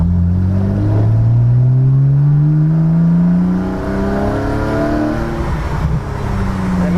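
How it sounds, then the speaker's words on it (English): A cheap sports car with its muffler removed roars loudly, the engine note climbing steadily in pitch as it accelerates, then easing off and settling into a lower, rougher drone. "People spend a lot of money to make their cars sound this good, and all I had to do was take the muffler off."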